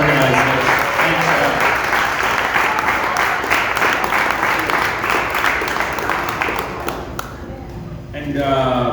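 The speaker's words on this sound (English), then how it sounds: "Another round of applause for Michael to organize this." A room full of people claps for an event organizer, dense sustained applause that thins out near the end before a voice begins speaking.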